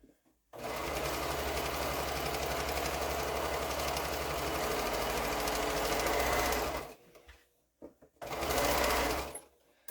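A sewing machine stitches a quilt strip set in one long, steady run, a loud rapid mechanical whir that stops, then restarts briefly for a second short burst.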